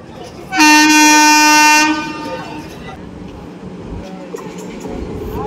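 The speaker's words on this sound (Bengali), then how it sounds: "সামনে থেকে আসছে 13245 জলপাইগুড়ি থেকে রাজেন্দ্রনগর বা পাটনা যাওয়ার রাজেন্দ্রনগর এক্সপ্রেস" The Rajendranagar Express, train 13245 from Jalpaiguri to Patna, approaches and sounds a loud, sustained horn blast lasting over a second, followed by a lower rumble of the moving train.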